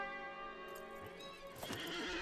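A horse in the LOTRO game whinnies as it is mounted, a single bright neigh with wavering harmonics followed by a brief snort and hoof sounds, close and clear.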